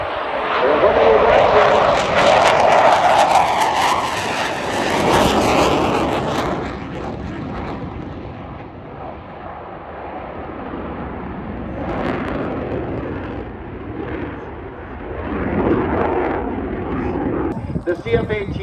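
CF-18 fighter jet at an airshow making a loud roaring pass that fades to a distant rumble and then swells again, with a commentator talking over it.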